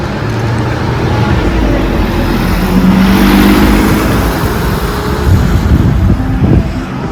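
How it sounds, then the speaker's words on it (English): Road traffic at a bus stop just outside an airport, with a steady wash of passing cars and buses and a low engine rumble that swells around the middle, heard alone without talk. "this is the bus stop while you're coming out from the airport"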